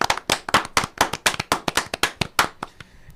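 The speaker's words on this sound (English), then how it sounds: "Can I get a round of applause, please?" A few people clap on a podcast, sharp close hand claps in a quick, uneven burst of roughly twenty claps, slowing and stopping just before the end.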